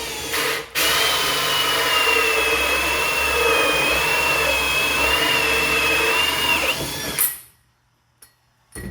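A hole saw on a quick-release mandrel grinds steadily through MDF in one loud, continuous cut lasting about seven seconds, then spins down and stops.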